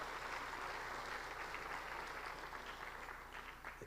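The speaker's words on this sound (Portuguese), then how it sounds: "Aplauda Ele, porque Ele está no barco." A church congregation claps together during a sermon, a dense, even wash of applause that stays steady and then tapers slightly toward the end, with no talk over it.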